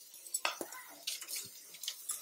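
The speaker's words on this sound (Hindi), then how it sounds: "अब आपको इसे लगातार चलाते रहना है।" A spoon scrapes and clinks against a pan while sweet vermicelli with roasted dry fruits is stirred, a few irregular close metallic taps and scrapes at low volume.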